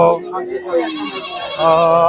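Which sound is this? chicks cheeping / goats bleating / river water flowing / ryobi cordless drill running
goats bleating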